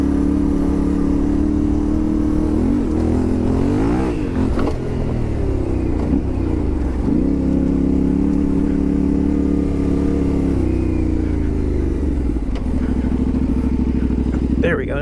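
Yamaha Tenere 700 (2025) motorcycle engine revving hard through a small hump and wheelie, a loud, steady, close mid-pitched drone with rising and falling rev sweeps throughout, no talk.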